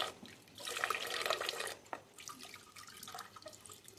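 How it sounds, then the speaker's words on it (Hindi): Hands are washed under water poured from above, a gentle running splash that swells for about a second and a half, breaks off, then resumes more softly with scattered drips, fairly quiet and with no talking. "अब इस तरह के पानी से मैं हाथों को धोऊंगी कि ऊपर से नीचे की ओर पानी गिरता हुआ हो।"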